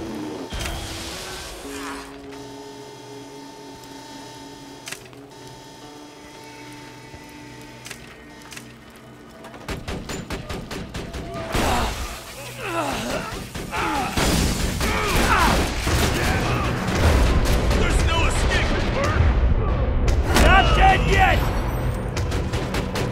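In the Borderlands 2 shooter, quiet mechanical tones and hums give way midway to rising bursts of gunfire and blasts, growing loud and dense toward the end, with a character's shouted lines over the chaos.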